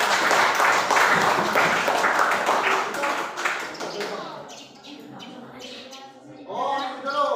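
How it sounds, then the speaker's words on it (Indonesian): Classroom applause for a student group, a brisk burst of clapping hands that fades after a few seconds, followed by chatter and voices from students in the room. "Aplaus tepuk tangan dulu untuk kelompok 3."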